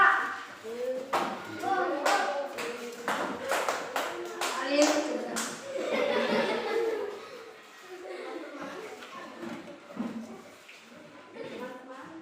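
Classroom of schoolchildren clapping for a group, with sharp irregular hand claps in clusters over lively children's chatter and voices throughout.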